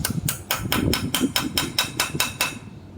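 A tire iron used as a makeshift hammer strikes a stripped nut about ten times in a steady rhythm. Each hit is a sharp, ringing metallic clank heard close and alone.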